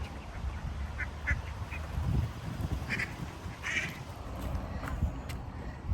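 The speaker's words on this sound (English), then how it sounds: "She saw the ducks and wanted to chase the ducks." Ducks quack a few times, short nasal calls at a moderate distance over steady wind and outdoor rumble near a boat.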